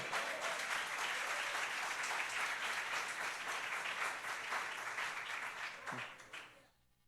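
A large church congregation applauds loudly and continuously, the clapping fading out near the end with a few cheers mixed in.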